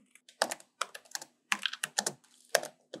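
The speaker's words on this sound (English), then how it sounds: "Suppose I want to type hello," Quick, crisp keystrokes on a computer keyboard come in short bursts with brief pauses, close and clear against a quiet background.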